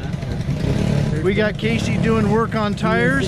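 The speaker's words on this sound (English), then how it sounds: "You can hear the roar of the engines in the background." Briggs LO206 kart engines buzz and rumble in the background at a racetrack, a steady droning roar running under someone talking close by.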